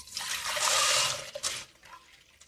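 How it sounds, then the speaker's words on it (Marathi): Boiled sorghum (jowar) is poured into a sieve to drain, giving a short rush of splashing water that swells, peaks and fades into a few scattered drips. "आता ही ज्वारी आहे ना आपण गाळून घेऊया अशा चाळणीने."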